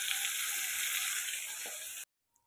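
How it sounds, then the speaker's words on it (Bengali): Hilsa fish pieces fry in hot oil in a wok, a loud, steady hiss and sizzle that runs for about two seconds and then stops abruptly, followed by a tiny click. "অল্প অল্প করে মাছ দিয়ে মাছটা পুরো ভাজা করে নেব।"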